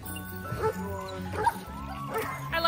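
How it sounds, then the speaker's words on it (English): Sled dogs at a mushing outing bark and yip repeatedly nearby in an irregular chorus, with people talking over the barking throughout. "Dogs everywhere."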